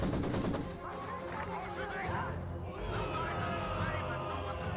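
MG42 machine gun fire in the strategy game Company of Heroes 2, sustained and dense, mixed with other battle noise and scattered gunshots, with voices speaking over the din throughout.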